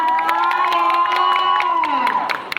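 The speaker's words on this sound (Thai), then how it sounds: "เย้เอาปรบมือสิคะ" Crowd at a live stage event at Central Embassy cheering and whooping with a sustained high shout, scattered claps underneath, fading out after about two seconds.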